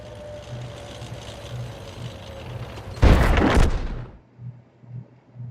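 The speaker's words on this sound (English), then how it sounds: "So, SU-100Y just fired." A SU-100Y tank destroyer's gun fires once in a video game, a sudden loud booming blast that trails off over about a second, standing out against a quiet, low engine-like rumble.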